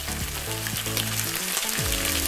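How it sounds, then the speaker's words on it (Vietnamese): Chicken breast deep-frying in oil, giving a loud continuous sizzle and crackle, with tonal background sounds sliding through it. "Các bạn để ý chiên sau khi nào mà cái phần ức gà nó vàng thì các bạn vớt ra nhé."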